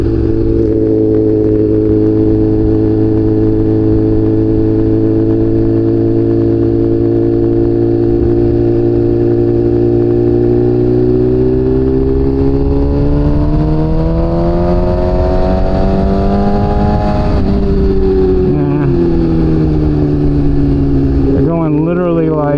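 A BMW S1000RR motorcycle engine drones loud and close, a steady rich hum that eases off and dips in pitch as the bike slows into a curve, then settles again.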